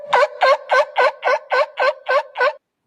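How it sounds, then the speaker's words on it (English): Seals calling in a rapid series of nine short, harmonic, honking barks, evenly spaced and close, with no other sounds. "I swear that seals are just water puppies"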